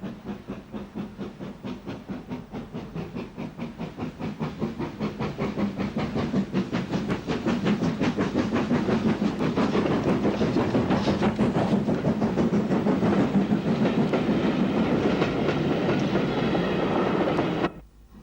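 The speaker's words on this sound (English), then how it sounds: "WT Class 264 tank number 57 takes a southbound passenger service out of the station" GNR WT Class 264 steam tank engine no. 57 hauls a southbound Belfast–Dublin passenger train out of Portadown station, chuffing in rapid rhythmic beats under rolling clickety-clack that swells louder as it nears, then cuts off abruptly.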